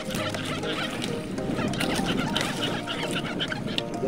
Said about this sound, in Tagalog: Yan yung iba nating pato.